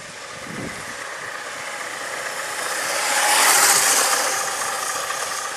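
An over-volted Big Red pocket bike running flat out during a speed test, a continuous high electric motor whine with a rattling mechanical edge that swells louder midway and then eases, no voices.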